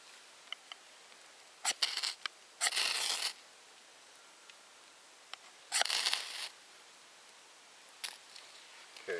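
A ferro rod scraped several times to light a one-stick fire, giving short, bright rasping strikes in irregular bursts, close and fairly loud against a quiet background.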